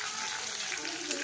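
Chopped ginger and panch phoron spices fry in hot oil for a raw mango pickle, making a steady, close hiss and crackle that runs the whole time without a break.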